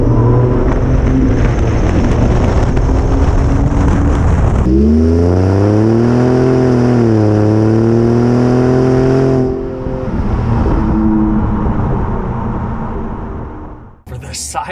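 A Ford F-150 Raptor pickup truck accelerates from close range, its engine note rising in strong, steady tones as it speeds up, then easing into a loud steady drone before falling away.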